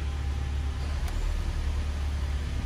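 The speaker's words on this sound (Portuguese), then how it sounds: "eu ouvi, eu acho que deu para vocês ouvirem também, que o compressor já está funcionando." Car air conditioning compressor running after the AC is switched on, in a car with a faulty part causing weak cooling and engine overheating; a steady low hum and drone, continuous and fairly quiet, with no talk.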